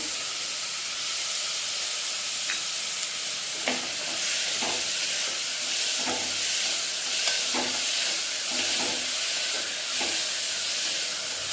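Sambar ingredients sautéing in a pan, a continuous hissing sizzle broken by repeated spatula scrapes and stirring clicks at irregular intervals, close and fairly loud.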